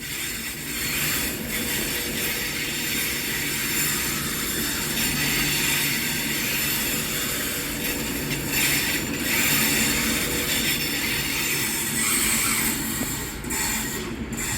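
A train rumbles past at Carlisle station on the West Coast Main Line, a continuous loud roar of wheels and rails with squealing and rhythmic clacks throughout.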